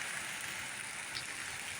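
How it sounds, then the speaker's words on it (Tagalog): Heavy rain falls steadily in Kuwait, a faint, even hiss of drops on surfaces with no pauses and no voices. "Ang lakas ng ulan oh."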